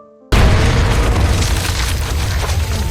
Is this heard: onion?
no